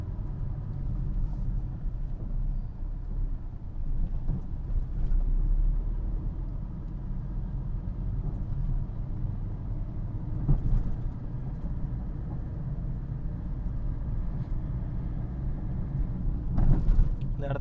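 A manual car travels along a narrow Chennai street in city traffic, its engine and road rumble forming a steady low drone heard from inside the cabin, with a few brief knocks and clatters along the way.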